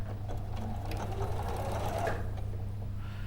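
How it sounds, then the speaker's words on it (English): Sewing machine stitching the side seam of trouser legs, running in a fast continuous close whirr with a steady mechanical hum throughout. "So you're just sewing up the side of the legs, are you now?"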